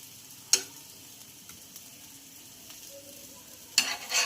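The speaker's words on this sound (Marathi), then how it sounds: "दुसऱ्या साईडने आपण छान छानपैकी दीर्ड भाजून घेऊया" A green mung dal and jowar flour dhirde roasts on its second side on a pan. A faint, even sizzle hisses quietly throughout, broken by two sharp utensil clinks near the start and end.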